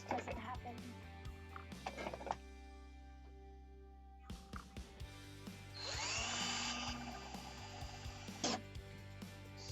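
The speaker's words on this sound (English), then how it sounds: "now I'm going to first drill pilot holes so this doesn't happen." A power drill bores pilot holes into wood for a homemade rope maker, one sustained whining burst in the middle of the clip, surrounded by shorter handling knocks and a low background hum.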